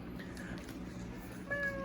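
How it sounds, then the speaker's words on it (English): A cat gives a couple of soft meows under faint background noise indoors, the last one a little louder and near, with a person speaking quietly nearby. "she's a good cat."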